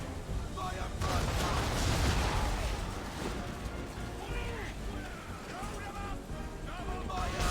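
Ship cannons firing a broadside in the video game Assassin's Creed III, a dense barrage of booming blasts over rushing sea and battle noise, with shouting voices throughout.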